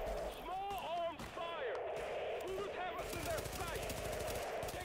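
Rapid automatic gunfire in The Division video game, a heavy-recoil weapon firing dense bursts of shots alongside in-game sound effects, with a player talking over the action.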